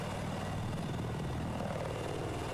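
A helicopter in Battlefield 4 multiplayer gives a continuous, loud rotor and engine drone with an even, rapid beating texture, heard alone without any voices.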